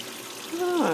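Water pouring into a pot while cooking street tacos, a brief gurgling pour that swells toward the end, fairly quiet.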